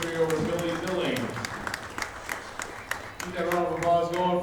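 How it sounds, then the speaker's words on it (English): An audience at a women's professional pool tournament claps, a moderate patter of applause heard under a voice, fading in the middle and swelling slightly near the end. "Keep that round of applause going for Billy Billing"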